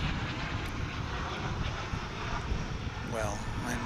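American Airlines airliner departing Dallas/Fort Worth Airport, a loud, steady broadband jet engine roar filling the whole span, with a voice talking over it.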